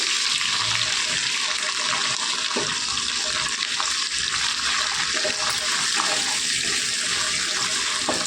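Boiled cauliflower with curry leaves being tossed into a hot pan for a fry, giving a steady loud sizzle and crackle with faint stirring.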